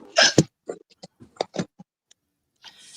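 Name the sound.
hiccup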